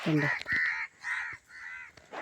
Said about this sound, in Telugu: ఆ కాకులు పైన అడుతున్నాయి